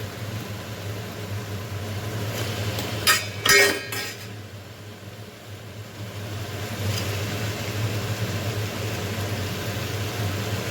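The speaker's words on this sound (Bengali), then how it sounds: "সেদ্ধ করা এঁচোড়টা দিয়ে দিলাম।" Boiled raw jackfruit goes into a pan of spiced masala, a couple of sharp metallic clinks and a short clatter against the pan over a steady background hum.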